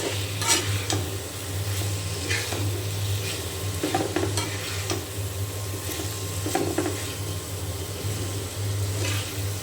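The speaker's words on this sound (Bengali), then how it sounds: "এখন আলু খুব মশলার সাথে ভালো করে আমি কষিয়ে নেব।" Potatoes with spices fry in a pan with a steady close sizzle, while a utensil scrapes and stirs through them in irregular strokes.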